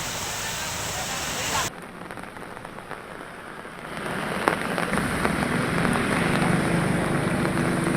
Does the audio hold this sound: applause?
no